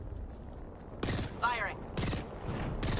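Bursts of gunfire in the Apex Legends video game, several short volleys spaced apart with brief gaps between them, heard over a low background rumble.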